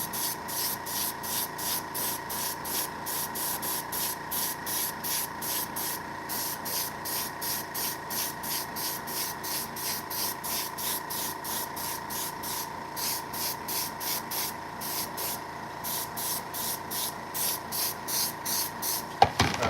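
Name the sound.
spray painting custom shoes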